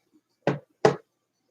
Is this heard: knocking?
yes